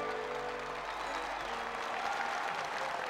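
A crowd in Orange, France applauds the trophy presentation at the 1993 World's Strongest Man final, sustained clapping that is moderately distant and steady throughout.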